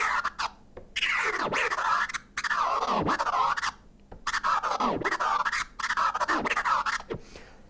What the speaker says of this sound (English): This is a cool way of introducing scratching and hearing what scratch sounds sound like.